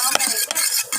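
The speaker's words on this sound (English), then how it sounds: "Beat the egg." An egg is whisked briskly in a bowl, giving close, loud rhythmic strokes that clatter and scrape against the sides in three quick bursts.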